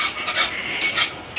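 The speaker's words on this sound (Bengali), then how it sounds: "তো এই যে বাদামগুলোকে ভাজা হচ্ছে" Peanuts frying in a pan while being stirred, with a run of scraping strokes and gritty sizzling bursts repeating every few tenths of a second, close and fairly loud, no voices.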